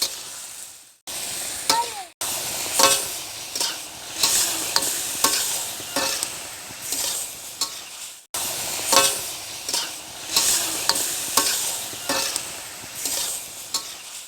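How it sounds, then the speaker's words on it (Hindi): Chicken stirred and fried in a karahi for a Peshawari charsi karahi, a steady loud sizzle broken by repeated scraping stirs, with brief pauses near the start and in the middle. "फिर थोड़ा सा करेंगे इसको मिक्स और फ्राई करते जाएंगे हम।"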